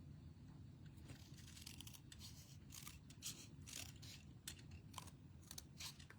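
Scissors snip through paper for a handmade Christmas card, a series of close, crisp cuts at an uneven pace over a low steady background hum.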